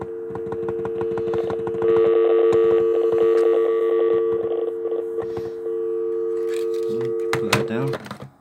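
Amstrad E3 video phone on hands-free, its steady dial tone humming over someone talking and button clicks, with beeping key presses and a few short tones near the end.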